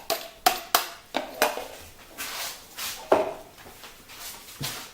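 Turkey blanquette stirred in a Cookeo pot: a utensil scrapes and knocks against the pot in a quick series of close clinks and taps, with no talk.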